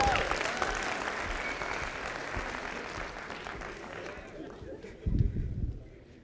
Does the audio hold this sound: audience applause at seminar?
yes